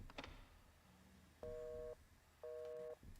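Busy signal from a telephone in the PS2 horror game The Suffering: two clear, steady tone bursts of about half a second each, separated by a short silence, heard alone with no talk.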